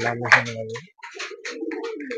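Pigeons cooing close by in a rooftop loft, giving a couple of throaty, rolling coos in quick succession.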